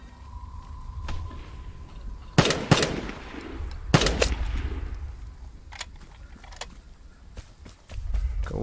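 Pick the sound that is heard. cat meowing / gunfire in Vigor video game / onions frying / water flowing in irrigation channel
gunfire in Vigor video game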